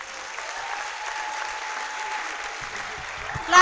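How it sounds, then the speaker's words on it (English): Audience applause after an inaugural lecture at the University of Benin, a soft, even wash of distant clapping that holds steady, with a brief louder burst near the end. "Clap, clap, clap, clap, clap, clap, clap, clap, clap."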